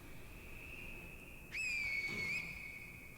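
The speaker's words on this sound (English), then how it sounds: "hold down the whistle to blow, and then come over here, watch as they go and investigate" A whistle in the Sekiro game blown to lure enemies away, one sustained steady tone that grows louder partway through and holds for a couple of seconds over faint ambient background.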